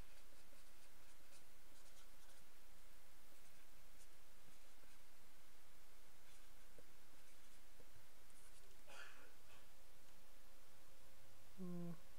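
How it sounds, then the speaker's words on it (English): A pen scratching across paper in short, uneven strokes with small pauses, close and quiet against a faint steady hum, no one speaking. "let me write that down"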